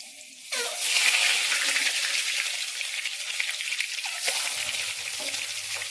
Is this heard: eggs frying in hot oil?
yes